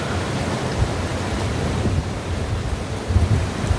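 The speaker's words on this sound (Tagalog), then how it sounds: "Kusog na kayo ang hangin pero di dili na kusog ang ulan." Strong wind from Typhoon Kong-rey blows as a steady, loud broadband roar with low rumbling gusts and buffeting throughout, no voices heard.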